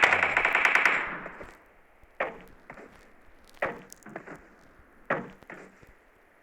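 Gunfire in a shooter video game: a rapid automatic burst up front, then several sharper isolated shots and clicks spaced across the clip, some near and loud, others fainter.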